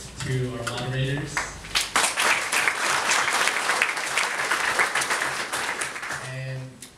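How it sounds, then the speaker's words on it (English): A round of applause from the audience at a San Diego mayoral debate in a Mira Mesa senior center, honoring the moderators; steady crowd clapping fills the room, with a voice speaking briefly before and after it. "A round of applause to our moderators."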